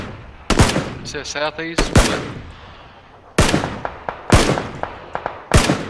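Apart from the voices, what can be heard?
gunfire from a video game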